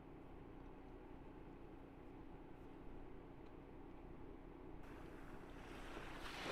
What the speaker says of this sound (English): Okay, still the ocean.